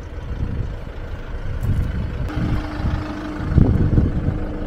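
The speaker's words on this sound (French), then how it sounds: "avec un joli camion" A truck rumbles along a country road with a low, uneven engine drone that rises and falls, plus a couple of brief clanks and a heavier surge near the end.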